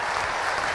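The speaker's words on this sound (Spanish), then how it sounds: "Sí, un aplauso, por favor." Audience applause at a political talk by Javier Milei, a brief steady wash of dense clapping from a sizable crowd, loud and even throughout with no voices standing out.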